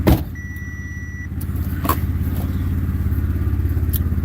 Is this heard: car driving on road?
yes